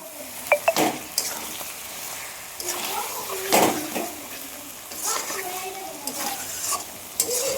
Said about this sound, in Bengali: এইবারে ভাজা আলুটা দিয়ে দিব